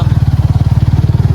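Close, loud motorcycle engine on a village road, thumping in a fast, even rhythm of low pulses throughout.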